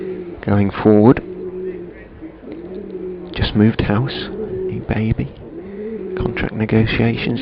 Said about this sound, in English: The pigeons are back, you can probably hear them cooing, calling to each other in the background.